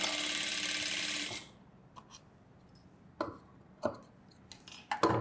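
A sewing machine stitching a blouse seam in a tailoring class runs with a steady, loud whir for about a second and a half, then stops, followed by scattered clicks and handling noises at close range.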